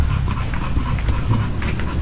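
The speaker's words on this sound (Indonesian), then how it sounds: "Soalnya udah pada ngos-ngosan, lidahnya udah pada keluar nih" Several pitbulls pant steadily with their tongues out, a continuous close breathy rhythm filling the short stretch with no talking over it.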